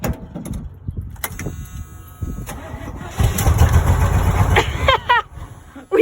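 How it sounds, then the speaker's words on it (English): A 1979 Chevy K10 engine, not run in 15 years, cranks over with a stuttering starter rhythm, then catches and roars to life up close. A voice cuts in briefly near the end. "try and crank it over. We're gonna see if my dad can get this thing started"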